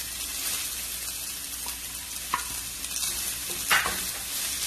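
Garlic and carrots stir-frying for noodles in a hot pan, a continuous sizzle with scraping utensil strokes and a couple of sharper clinks, close and moderately loud, no talk.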